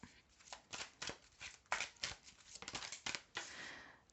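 Oracle cards from an angel-answers deck being shuffled and drawn, a quick series of crisp papery riffles and slaps close up, some overlapping in bursts, with a longer sliding rustle at the end.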